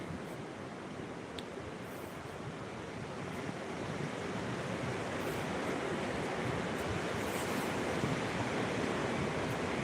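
Sea waves break on a beach in a continuous, loud roar of surf, with wind rushing across the microphone and no voices over it.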